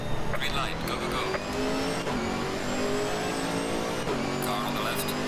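Camaro GT4 race car in a sim racing game launching off the grid at Misano, engine revving hard and climbing through gear shifts amid other cars, with a voice talking over the roar.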